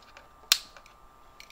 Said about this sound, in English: Let me see if I can cut this light off.